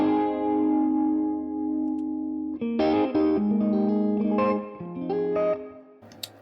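A Fender Masterbuilt electric guitar rings out on the next pickup position with the overdrive pedal switched off: a clean sustained chord, then a run of picked notes with echo, close and moderately loud.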